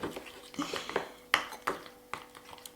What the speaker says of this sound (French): Ah, que c'est passionnant de touiller, hein?